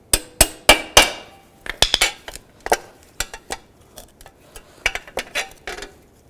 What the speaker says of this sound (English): Just take a punch and a hammer.